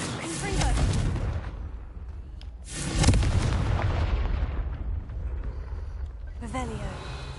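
Confringo fire spell explosions in Hogwarts Legacy: several fiery booming blasts, the loudest near three seconds, each trailing off in a rumble, while a voice speaks over the combat.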